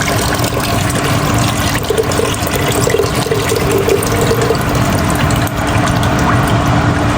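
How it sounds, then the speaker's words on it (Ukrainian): Water pours steadily into a cooking pot while making traditional Chinese suancai fish with pickled mustard greens, a continuous close splashing wash with no talk. "Тепер додаємо воду"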